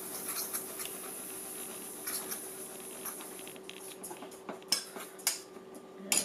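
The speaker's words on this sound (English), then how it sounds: "So first thing we'll do is we will whisk this together" Whisk scraping and tapping in a bowl of almond flour, baking soda and salt, a soft continuous patter punctuated by sharper clicks of metal against the bowl toward the end.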